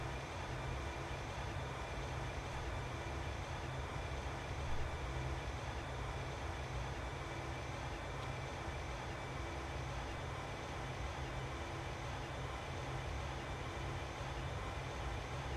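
ÖBB CityJet train running in the Train Simulator game, a steady low rumbling drone of motor and rolling wheels that holds an even, continuous level throughout with no voices.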